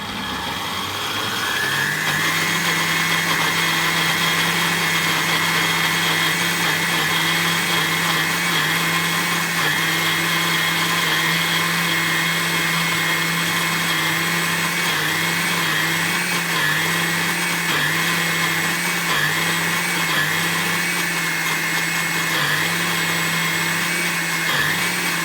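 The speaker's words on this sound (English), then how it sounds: "Run the blender for a little longer than you think is necessary." A blender purees chicken liver for a parfait, a loud, steady motor whine with a high pitched buzz that holds constant for the whole stretch after spinning up, with no voices.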